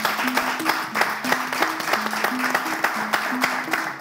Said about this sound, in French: Oh, ça s'acclame.